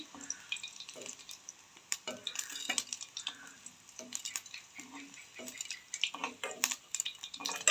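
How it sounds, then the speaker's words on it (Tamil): Fried soya meat is scooped from a pan onto another plate, making a run of irregular metal clinks and scrapes from a spoon against cookware, close and moderately loud. "இதை வந்து நாங்கள் இப்போ இன்னொரு பிளேட்டில் வந்து மாற்ற போகிறோம்."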